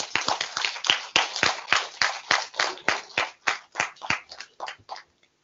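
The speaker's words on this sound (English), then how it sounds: "Please give a big round of applause." A small audience at an international tropical seaweed symposium claps sharply and individually, the distinct claps close together at first, then thinning and fading out after about five seconds.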